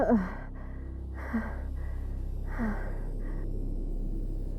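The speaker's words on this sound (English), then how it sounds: "And then she awoke, gasping for air" Three sharp gasping breaths, each followed by a brief trailing exhale, close and soft, spaced evenly apart in an otherwise quiet room.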